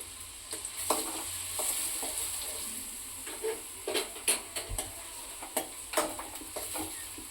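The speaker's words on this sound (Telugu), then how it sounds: "వీటిని బాగా గోల్డెన్ బ్రౌన్ వచ్చి కలర్ వచ్చేంత వరకు ఫ్రై చేయాలండి." Onions frying in hot oil while being stirred for a crab curry, a steady close sizzle with frequent sharp clinks and scrapes of a utensil against the pan throughout.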